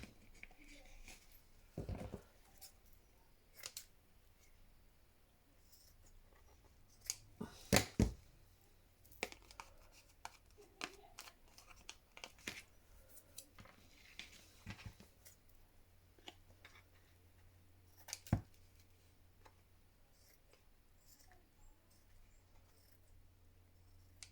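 Scissors cutting paper for a junk journal cover, quiet irregular snips and rustles with scattered clicks and taps, faint and close with long gaps between sounds.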